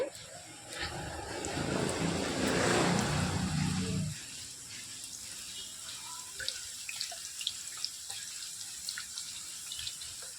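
Potato slices dropped into hot oil for crisp white chips, a loud surging hiss and crackle for a few seconds that settles into a quieter, steady sizzle with scattered small pops.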